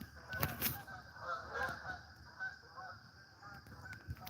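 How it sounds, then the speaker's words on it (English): Geese honking in flight as a flock passes overhead in a V formation in August, repeated honks scattered through the clip, moderately distant and fairly faint outdoors. "You don't usually see geese in August. Look at a big V, too."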